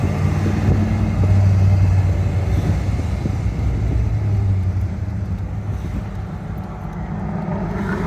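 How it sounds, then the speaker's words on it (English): A 1962 Pontiac Catalina with a 389 tri-power V8 and 4-speed rumbles steadily on a test drive, a deep continuous engine drone with road noise that stays loud and close throughout, no talking. "62 389 tri-power 4-speed Catalina out for a quick test drive"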